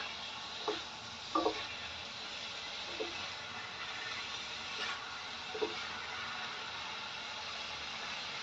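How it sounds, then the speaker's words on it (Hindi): Paneer fries in a pan with a faint, steady sizzle, broken by a few soft clinks and stirring taps, quiet and without talk. "बस इसे हमें हल्का सा सॉफ्ट होने तक ही इसे हम फ्राई करेंगे।"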